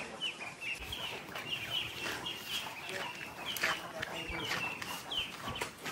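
Chickens cluck around a house, with short clucks and calls repeating through a busy, noisy scene with some background voices.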